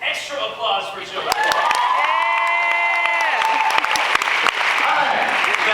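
A movie-event crowd claps and cheers loudly for Joe, a dense, steady wash of applause with whoops and raised voices riding on top, following a brief stretch of talk.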